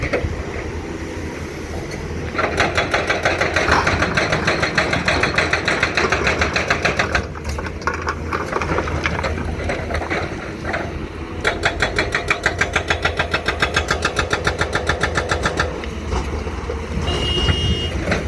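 The engine of a Caterpillar 323GC excavator runs steadily close by, loud and continuous, with rhythmic clattering and beeping bursts repeating over the drone.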